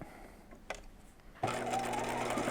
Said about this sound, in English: we're going to stitch just about 1/8 of an inch away from the seam line